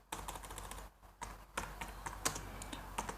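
Rapid clicking of a computer keyboard as someone types a command into a MySQL database prompt, a steady run of close, crisp keystrokes with one brief pause and no talking.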